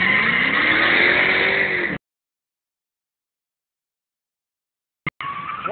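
A Trans Am's engine revs loud and close for about two seconds while warming up, then cuts to silence before a brief burst and rumble return near the end.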